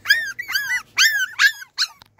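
High, thin whimpers and squeaky whines come in short bursts, about five cries in a row, close up, with brief pauses between them.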